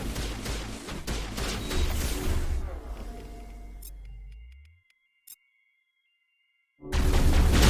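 Dense, close gunfire in Vanguard crackles for several seconds, then tapers off into near silence and a short clicking pause before another loud burst starts up.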